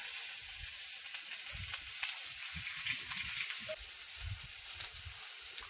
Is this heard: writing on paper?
no